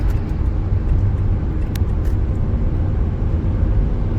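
A 2004 car on the road gives a steady, even hum of engine and tyre noise, continuous and fairly loud from inside the cabin with no voices.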